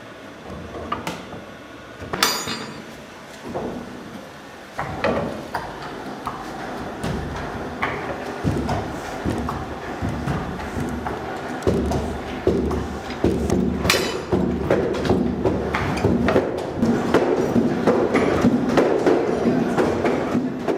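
Wooden stamping-mill hammers pound fermented rag pulp in water in a trough, a close series of heavy, irregular thuds and knocks building into a busier, denser rhythm over time.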